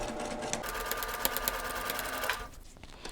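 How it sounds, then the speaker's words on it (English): Sewing machine stitching quilt fabric for a Christmas ornament quilt block, a steady close motor whir with rapid needle clatter running continuously, then stopping abruptly near the end. "I'm going to sew just slightly to the right of the drawn line, about a needle's width, like this"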